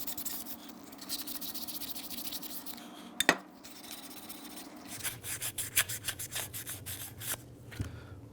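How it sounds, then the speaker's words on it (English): Very light grit sandpaper rubs quietly inside the bore of a lower control arm bushing on a 2003-2011 Honda Element, a faint continuous scratching that quickens into short rapid strokes in the second half, with one sharp knock midway. "we're just going to give this a quick clean on the inside with some very light grit sandpaper"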